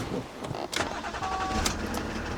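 A BMW E38 engine is cranked and started nearby, a steady mechanical whirr with brief higher whines and clicks over a constant running drone.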